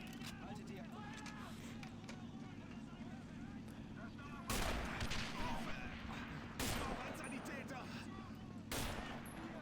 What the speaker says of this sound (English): Oh, that was a lot of rifle fire.